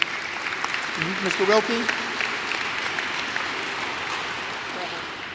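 A hall full of people claps steadily at a high school wrestling event between Gulf and Nature Coast. A voice speaks briefly over the crowd partway through.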